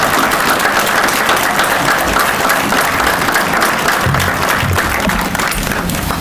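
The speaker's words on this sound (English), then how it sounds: "give him another big round of applause" Loud, sustained applause from an audience at a Veteran's Day presentation, dense clapping filling the hall continuously, with a faint voice or two underneath.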